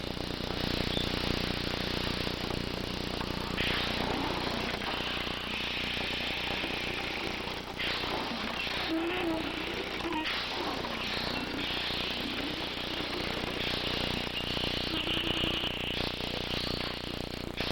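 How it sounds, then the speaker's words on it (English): An ornithopter, a flapping-wing machine driven by a 10 horsepower engine, runs with a steady, loud mechanical drone and rattle that holds without pause throughout, with no voices. "These wings can beat with a sufficient air supply at 90 strokes per minute"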